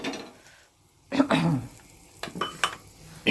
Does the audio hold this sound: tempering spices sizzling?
yes